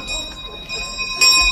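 A large hand bell rings on a street with bright, sustained metallic tones, swelling louder near the end, over a faint background murmur.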